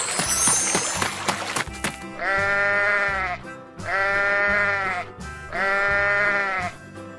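A sheep gives three long, loud, wavering bleats in a row, spaced by short pauses, after a brief burst of noisy clatter at the start.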